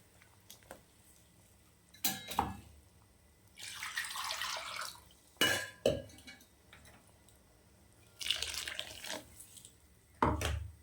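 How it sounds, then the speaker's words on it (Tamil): Water splashes into a pot of mutton curry in several separate bursts, each lasting a second or two, with clinks of metal cookware between them. "இன்னும் கொஞ்சம் தண்ணி சேர்த்துக்கலாம்"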